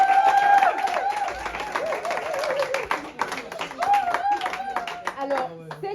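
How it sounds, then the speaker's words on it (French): A crowd at a Congolese student event claps and cheers with high excited shouts and whoops, lively and near, voices rising and falling over scattered clapping across the whole stretch. "Est-ce que vous pouvez montrer votre engouement par des acclamations,"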